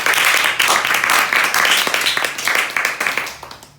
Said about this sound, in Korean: 우리 박수 한번 할게요.